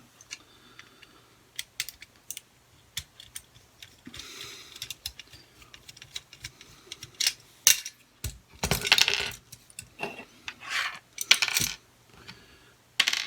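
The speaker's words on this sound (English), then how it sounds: "there's a couple of screws holding the handlebars in place and the light, so we'll just take them out" Screws are taken out of plastic toy handlebars, with scattered small clicks, taps and rattling of plastic and metal parts close by, and bursts of scraping as they are worked loose.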